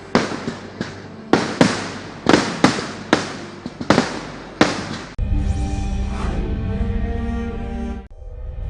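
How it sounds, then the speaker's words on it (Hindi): Temple fireworks display at Puttingal Devi temple in Kollam: a run of sharp, loud blasts at an uneven rhythm, then a dense continuous crackling roar of many explosions, with no voices. "तस्वीरों में दिख रहा है कि कितनी भयंकर आतिशबाजी हुई थी।"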